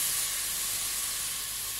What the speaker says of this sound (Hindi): इसमें मैं ये गोश्त डाल रही हूँ।